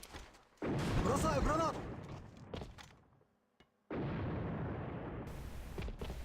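A grenade goes off during a competitive Alliance of Valiant Arms match, a loud, sharp burst followed by a rumbling tail. A commentator talks over it, with a brief near-silent gap before the game noise resumes.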